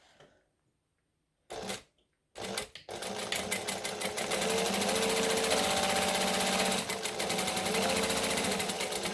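Domestic sewing machine stitching foam for a handbag, running in a steady, loud rapid whir for several seconds after a few brief starts and stops, with no voice over it.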